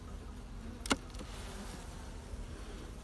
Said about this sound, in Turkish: Arı dökülüyor